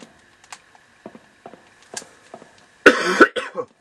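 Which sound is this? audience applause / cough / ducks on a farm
cough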